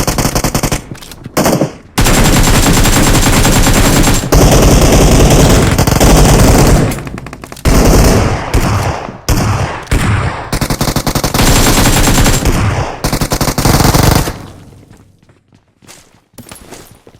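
Loud, sustained machine gun fire in the mobile battle royale game BGMI comes in long rattling bursts broken by brief gaps, then cuts off and fades near the end.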